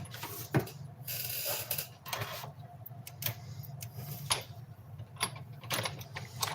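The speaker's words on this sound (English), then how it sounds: "Now I'm going to go ahead and cut it out with the die cut machine." A die cut machine runs a card through its rollers, giving a steady mechanical grinding with ratchet-like clicks and a few sharper ticks throughout, close by and fairly quiet, with no talking.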